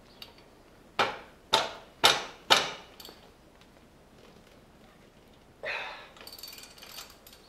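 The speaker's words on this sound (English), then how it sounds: "So I gotta take one of these brake calipers off." A ratchet wrench working to remove a brake caliper on a 1975 Moto Guzzi motorcycle: four sharp, loud metallic ratcheting bursts in quick succession, then a pause and a softer rasping clicking run near the end, close up with no speech.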